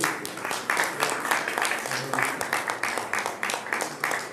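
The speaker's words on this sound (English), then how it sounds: "Please give a big applause" Applause from a temple community audience following a musical offering of the Ramayana, with rhythmic, fairly close clapping that comes in pulsing waves and a voice faintly underneath.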